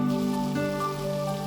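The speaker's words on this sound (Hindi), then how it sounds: "बहुत जोरों की बारिश होने लगी" Heavy rain falls during a road trip in Uttarakhand, making a steady, dense hiss that continues without a break and with no voices.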